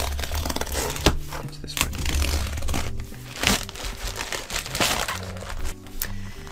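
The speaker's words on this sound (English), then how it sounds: "we're gonna get into this massive parcel here" A large parcel of stamps being opened, with paper and packaging crinkling and crunching in irregular bursts of rustling and tearing, close up and fairly loud, with no talking.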